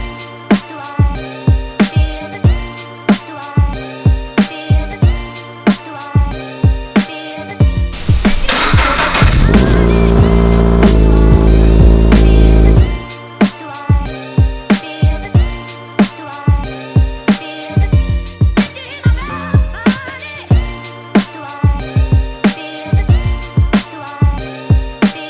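Scion FR-S on a drive to an alignment shop, its engine revving up in a sustained loud pull midway, surrounded by a steady rhythmic beat of music.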